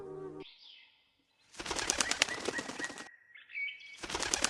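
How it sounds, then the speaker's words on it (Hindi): A small cartoon bird flaps its wings and flies away, a burst of fluttery flapping between short whistly tones and brief silence, clear and close. "तभी टुनी चिड़िया अपनी बेटी को लेकर वहाँ से उड़ जाती है।"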